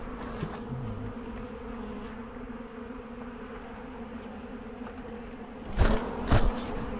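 Honeybees from a failed-queen colony buzz in a steady, close drone during a shake-out from the frames, with a couple of sharp knocks and clatters near the end.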